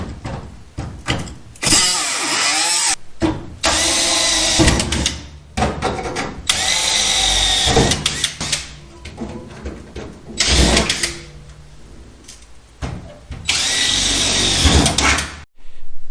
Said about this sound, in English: So I drilled some holes on each side of my gas tank supports right here